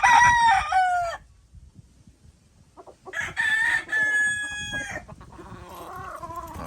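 A Hatch Grey gamefowl rooster in a backyard breeding yard crows loudly and close, two strong calls separated by a quiet pause, followed by softer clucking.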